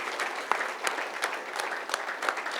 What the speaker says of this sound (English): big round of applause for him as well.